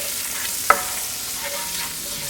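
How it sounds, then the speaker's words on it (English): Garlic sautéing in a pot for an oxtail dish, with a steady, fairly loud sizzle and one sharp utensil clink early on; no one speaks. "let's add our garlic in the pot and let's saute it a bit"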